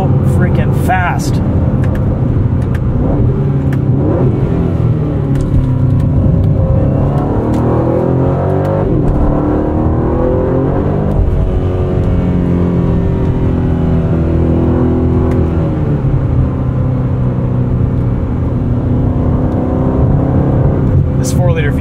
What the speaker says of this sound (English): This 4-liter V8 just snarls away at you.